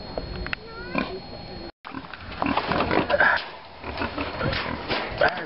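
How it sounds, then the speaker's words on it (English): A pig at the butcher, grunting and snuffling close up in short, irregular bursts, with some squealing, mixed with rustling and people talking nearby. "Are you ready for this pig?"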